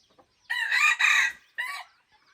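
A rooster crows nearby, one long two-part call followed by a shorter cry, loud against otherwise quiet surroundings.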